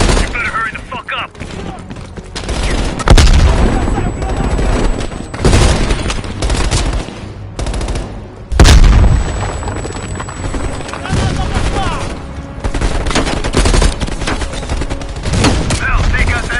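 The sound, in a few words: heavy machine gun fire in video game Call of Duty Black Ops Cold War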